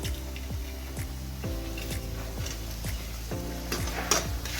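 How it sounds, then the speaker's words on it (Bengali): Sesame seeds with onion and egg fry quietly in a pan with little oil, a steady soft sizzle under regular scraping strokes of a spoon stirring, about one every half second. "তারপর আবার কিছুক্ষণ নাড়াচাড়া করে এটা ভালোভাবে ভাজা ভাজা হবে রান্না করে নিতে হবে"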